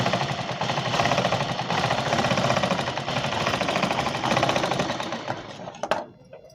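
A sewing machine joins four petticoat panels in a fast, steady mechanical chatter of stitching that runs continuously, then slows and stops with a clunk just before the end.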